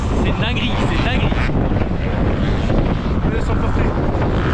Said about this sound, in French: Et je te jure le vent il me pousse.